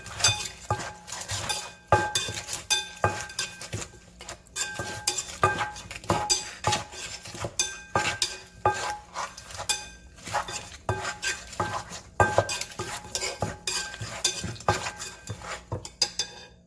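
A utensil clinks and scrapes against a bowl in quick, irregular strokes as papaya crab salad ingredients are gently smashed and stirred together, a steady close-up clatter with no talking.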